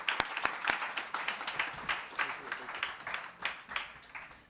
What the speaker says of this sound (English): And I'll just give one more round of applause to our panelists.